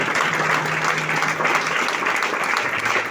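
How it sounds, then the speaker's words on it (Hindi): Steady, dense applause from a large audience, loud and continuous throughout, with no pauses or distinct voices standing out. "जोरदार तालियों से दोस्तों, जबरदस्त तालियां प्लीज वेलकम सर।"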